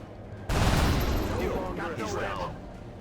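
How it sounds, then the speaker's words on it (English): Ballistic weapons firing in XCOM Long War, a sudden loud burst of gunfire that breaks out after a quiet start and rolls on with a dense, echoing rumble, while a voice talks faintly underneath. "How about those ballistic weapons?"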